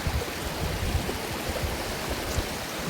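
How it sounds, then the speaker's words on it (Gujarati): Steady rushing water of the Singuda river flows continuously, a broad even wash of noise with small splashes, heard close and fairly loud. "આ રીતનું પાણી જાય છે"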